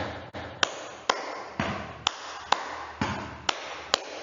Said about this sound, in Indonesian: Hentakan kaki baru tepuk tangan.